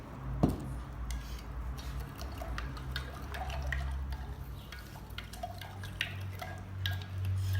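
A mixture of salt, sand and water stirred in a container for a classroom science experiment, giving soft repeated scraping and gritty clinking that runs steadily, fairly quiet, with no voices.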